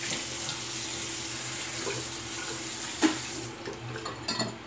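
A tap runs steadily at a sink to rinse a Merkur 37C slant razor, making an even rush of water with a few small clinks toward the end. No one speaks.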